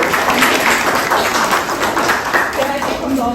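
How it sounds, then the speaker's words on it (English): Audience clapping at a book launch event, a steady dense wash of applause filling the room, with a voice talking over it near the end. "Give her a big round of applause."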